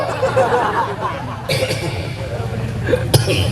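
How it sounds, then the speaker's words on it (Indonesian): A person coughs a few times amid talk and chuckling nearby. "Nah jadi nu kitu teh batuk"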